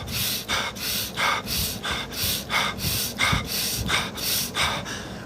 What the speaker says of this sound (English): fast breaths